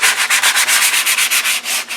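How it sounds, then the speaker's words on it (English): Fine 220-grit sandpaper rubs steadily back and forth across an art journal cover, a loud, close, rhythmic rasping of about a dozen even strokes with no talking. "You can use regular fine sandpaper as well,"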